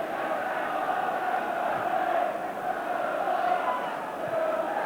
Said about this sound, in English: The crowd turned up the volume.